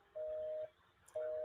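Two long steady telephone tones sound on a phone line while a caller is being dialed back for a live call-in show, each about half a second, with faint line hiss between.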